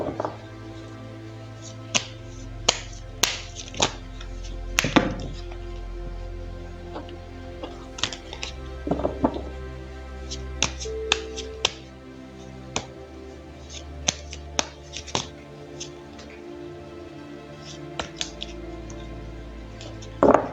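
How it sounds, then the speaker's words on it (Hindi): Tarot cards are shuffled close by in a quiet room, giving scattered soft flicks and sharp taps at irregular intervals over a faint steady background hum, with no talking. "तो चलिए पहले ज़रा कार्ड्स को शफल कर लेते हैं।"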